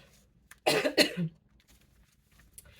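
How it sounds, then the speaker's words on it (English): Two sharp coughs in quick succession, close and loud, followed by quiet room tone. "I'm coughing still because when child's sick, mommy becoming sick"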